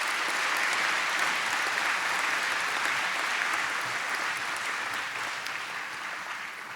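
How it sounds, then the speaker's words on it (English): Gala audience applauding school staff at an annual spring fundraising gala, a steady, dense wash of clapping from a large crowd that holds nearly level throughout and eases off only slightly toward the end. "Please join me now in giving them all a well-deserved round of applause."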